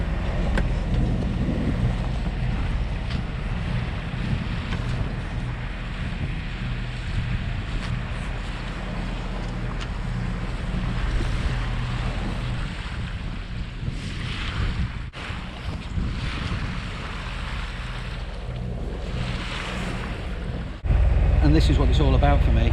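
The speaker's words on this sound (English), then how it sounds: "other than the thumping sound of that infernal engine" A sailboat's inboard engine thumps steadily at sea off England's south coast on a grey day, the low drone continuous beneath heavy wind buffeting the microphone and faint water noise.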